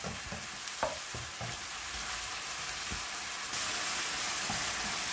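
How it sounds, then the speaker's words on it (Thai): Pork and curry paste stir-fried in a pan, a steady sizzle with scraping stirs of the utensil throughout and no talk. "พอป้าผัดมาสักพักนะคะคิดว่าหมูน่าจะ สุกแล้วนะคะ"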